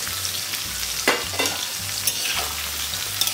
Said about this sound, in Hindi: 2 मिनट वेजिटेबल फ्राई करने के बाद सारे ऐड किया।